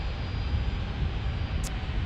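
A Sun Country airliner at San Diego airport, a steady low rumbling roar of engines heard from some distance with no voices.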